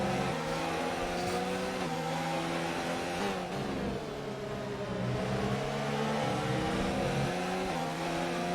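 A pack of race cars drives through the Spanish Grand Prix in a racing video game, with engines droning and shifting pitch as they accelerate in a continuous close pass.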